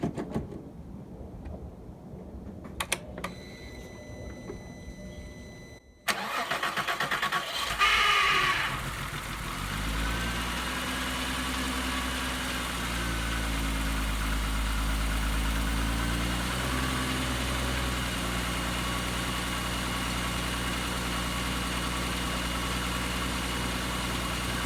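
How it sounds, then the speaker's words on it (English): A Mk4 Jetta's engine cranks briefly and catches, then settles into a steady, rumbling idle that continues for a long stretch, close and fairly loud. "Let's start her up and see if this helped any."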